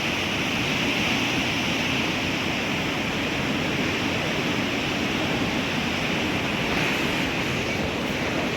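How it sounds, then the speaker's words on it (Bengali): A swollen river rushing between mountains in Solang Valley, heard as a loud, dense, unbroken roar of water with some wind buffeting, steady throughout and with no voices. "বাপরে, রিভারের জল কতটা বেড়ে গেছে।"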